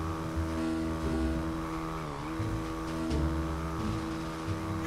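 A motorbike in GTA 5 engine-revs continuously while doing wheelies, its whining motor rising and falling in pitch with a dip midway, loud and close with no talking.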